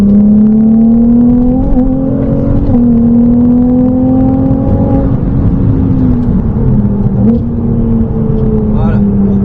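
Ferrari 296 GTB at full throttle on the Trappes circuit, its engine note climbing steadily in a loud, close, continuous howl with brief dips at shifts, while a voice speaks over it.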